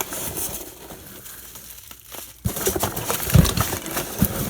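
Packaging peanuts crunch and crinkle as a hand rummages through a shipping box holding an On30 McDonald's 2-6-0 model steam engine, quiet at first, then louder with a few sharp crackles near the end.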